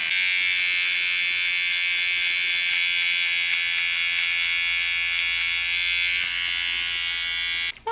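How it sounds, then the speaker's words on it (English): A small Wahl personal electric trimmer buzzes steadily and loudly at close range, a bright, even electric drone holding for several seconds before cutting off abruptly. "I use this Wahl trimmer. It's a little personal trimmer."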